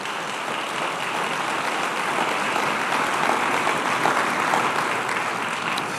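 A church congregation applauds together at a worship service, a steady, dense wash of many hands clapping close by for several seconds with no talk over it.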